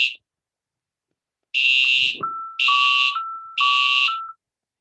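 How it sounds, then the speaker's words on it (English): Loud electronic fire alarm blaring in repeated bursts during a false alarm, with a steady high tone sounding between the pulses. "This is just a false fire alarm."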